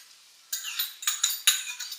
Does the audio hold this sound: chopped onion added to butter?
yes